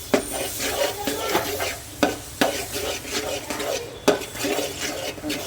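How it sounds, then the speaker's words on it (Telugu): A spoon stirs and mixes food in a metal pot, repeated scraping strokes with sharp clanks against the sides at an uneven rhythm, close and moderately loud with no talking. "బాగా మిక్స్ కలిపేస్తే"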